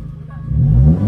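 A Honda Civic Type R engine is revved once, rising from a low idle into a loud, close, deep roar that holds steady near the end.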